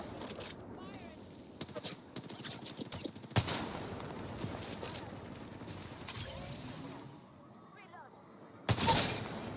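Gunfire in the video game Apex Legends, Season 22: bursts of shots and sharp cracks, dense and close, mixed with other game effects and ending in a loud final volley.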